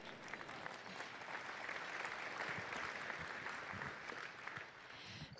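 Applause from a large audience at a bankers' economic forecast luncheon, a dense, even wash of many hands clapping at a distance, sustained for several seconds with no voices on top.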